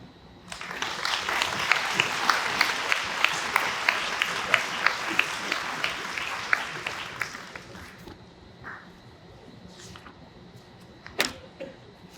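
Audience applause fills a hall at the USC Upstate 2025 convocation, a steady wash of clapping lasting several seconds before tapering off into scattered claps and room noise.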